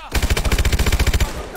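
Close, loud machine gun fire in the Call of Duty video game, a rapid evenly spaced burst of about fifteen shots that ends abruptly.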